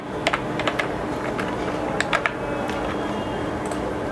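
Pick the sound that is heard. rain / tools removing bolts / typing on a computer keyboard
typing on a computer keyboard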